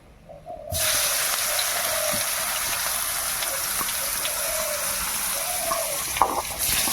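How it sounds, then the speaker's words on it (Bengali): Sliced onion drops into hot oil with bay leaf in a pan, making a loud, steady sizzling hiss that starts abruptly and continues without any talking. "পেঁয়াজটা আমি তেলের মধ্যে দিয়ে দেবো।"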